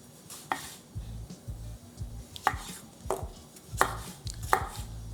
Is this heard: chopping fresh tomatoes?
yes